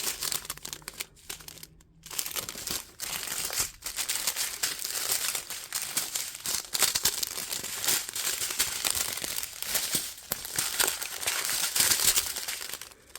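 Crinkling plastic packaging from a diamond painting kit rustles and crackles almost continuously at close range, with a brief quieter gap near the start.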